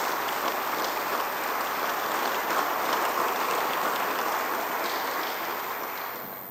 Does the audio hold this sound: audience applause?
yes